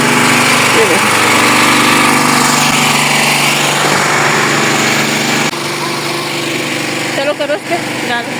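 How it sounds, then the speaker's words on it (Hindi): A small generator runs steadily upstairs on a rooftop, a loud, buzzing engine drone that continues throughout and drops slightly in level partway, while people talk over it. "यहाँ पे जनरेटर चल रहा है, आपको आवाज़ आ रही होगी।"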